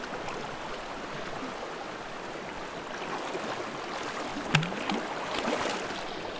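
Flowing water rushes and splashes steadily at close range, with occasional sloshing and a brief knock as someone wades across a stream.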